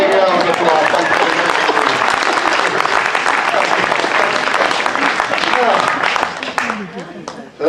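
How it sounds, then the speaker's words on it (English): An audience at a magic show breaks into loud, sustained applause that fills the room for several seconds, then quickly tapers off at the end. "Give her a big round of applause"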